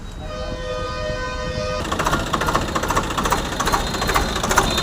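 A Swaraj 744XT tractor with a dual clutch starting up: a steady tonal whine gives way to a loud, rattling diesel chug that settles into a rhythmic, pulsing idle.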